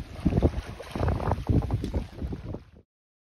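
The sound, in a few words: wind blowing over water near canoes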